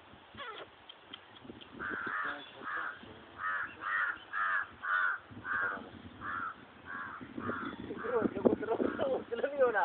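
Crows fighting a dog, cawing loudly in a rapid regular series of about a dozen harsh calls, close by over background chatter and scuffling.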